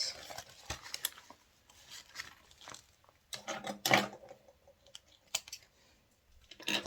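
Small snips trimming thread tails on a sewn minimalist wallet, a string of quiet, crisp clips and snaps spaced irregularly, with a couple of louder cuts near the middle, close up and without speech.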